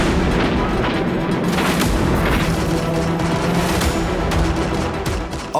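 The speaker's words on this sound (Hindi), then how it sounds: "हमीद ने अपने RCL गन की फायरिंग सिर्फ 30 फीट की दूरी से की, जिससे दुश्मन के टैंक में आग लग गई" A recoilless rifle firing at Patton tanks in the 1965 Indo-Pak war, heard as a loud, sustained roar of booming artillery-like blasts and crackling fire layered together throughout, with no voices.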